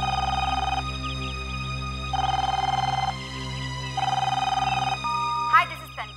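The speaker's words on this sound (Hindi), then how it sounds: "मैं मैम को फोन मिलाता हूँ, शायद वो आराम कर रही हो।" A phone rings back three times in evenly spaced electronic trills, heard through the handset, followed by a brief click.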